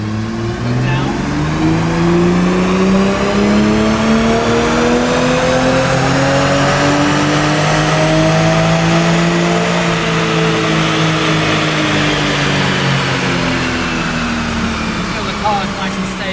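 A 2020 Toyota Supra with an 8-speed gearbox strapped to a dyno pulls hard in 5th gear, its engine note climbing steadily in pitch for a long sustained run before easing off, loud and close, with speech over it.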